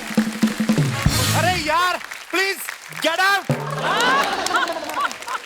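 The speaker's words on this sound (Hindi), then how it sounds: "जोरदार तालियां हमारे मेहमानों के लिए" A television comedy studio audience applauds to welcome guests on The Kapil Sharma Show, with bursts of clapping under loud, excited voices that call out and talk over the noise.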